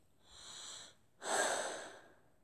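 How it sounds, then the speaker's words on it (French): A strong, deep human breath: a drawn-in inhale followed after a short pause by a louder, forceful exhale, close and alone. "j'ai fait une respiration forte comme ceci."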